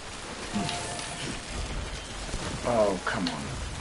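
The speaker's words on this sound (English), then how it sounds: "I hope the rain doesn't damage too much everything." Steady rain hisses throughout in the video game Death Stranding, with a brief voice-like sound rising near the end over the constant wash of rainfall.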